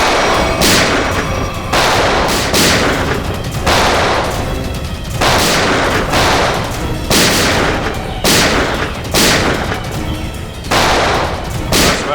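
Loud bursts of gunfire ring out in a Hindi TV crime drama shootout. Sharp, booming volleys repeat roughly once a second, each with a broad, ragged tail, and no talk is heard over them.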